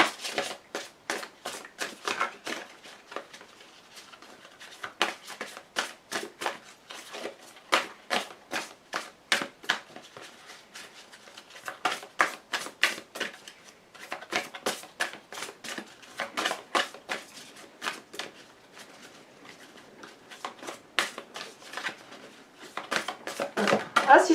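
Large tarot cards are shuffled by hand in a long series of quick riffling taps and flaps, uneven in rhythm, close and fairly quiet, with occasional talking mixed in.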